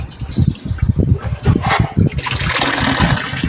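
A Toshiba top load washing machine fills with water after a water level sensor replacement, with rhythmic sloshing and pulsing early on, then a steadier rushing inflow near the machine.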